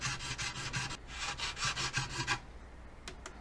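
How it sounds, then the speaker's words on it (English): Hand file rasping over dried epoxy filler on a Catalin or polystyrene radio cabinet, a run of quick steady strokes that stops partway, followed by a few faint ticks; close and fairly quiet, with no talking. "I'm using file to fix all the area."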